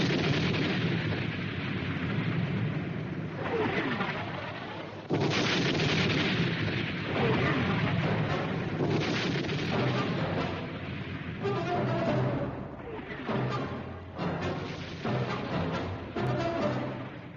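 A 1916 German artillery barrage of big guns at Verdun rumbles on without a break, loud overlapping booms and blasts forming a dense, continuous roar.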